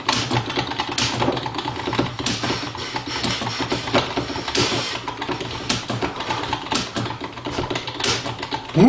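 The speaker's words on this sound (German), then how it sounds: "Ich kann überhaupt nicht mehr tippen." Rapid, dense keyboard typing in a typing game, a continuous stream of fast clicks and clatter filling the whole stretch with only brief pauses.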